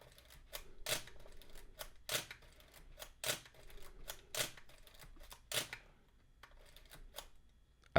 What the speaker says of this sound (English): then we're just going to pretend we're taking photos